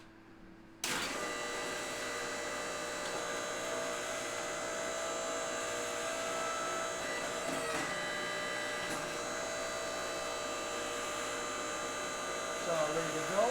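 A MetalPro ironworker machine starts up abruptly and runs with a steady electric hum and whine as its ram comes down to seat the die, with a few faint shifts and clunks near the end.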